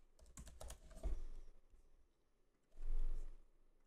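Quick bursts of computer keyboard typing, close and crisp: a run of clustered keystrokes, a short pause, then a second flurry ending in a heavier key press.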